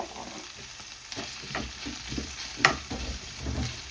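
Chopped onions sautéing for a mince-meat curry, a close, lively sizzle with repeated spoon scrapes every half second or so and one sharp clink against the pan.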